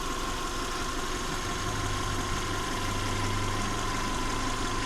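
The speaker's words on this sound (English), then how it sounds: "Engine purrs like a kitten." A 1998 Mazda Demio hatchback with a 1.5L engine and low mileage idles smoothly and steadily, a close, even hum and low rumble with no change in pitch and no voices.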